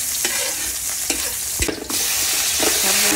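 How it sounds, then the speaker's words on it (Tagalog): Garlic and onion sautéing in oil for sotanghon noodles, with steady close sizzling and several sharp scraping stir strokes of a spatula in the pan, no voices. "gisa po tayo ng bawang. Sabay na rin ng sibuyas po"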